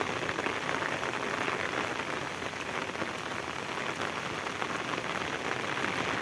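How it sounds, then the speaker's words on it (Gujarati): Heavy monsoon rain pours down in Vejalka, Gujarat, a dense, steady, loud hiss of drops hitting surfaces that never lets up, with no voices. "ભારે વરસાદ આજ પડી ગયો।"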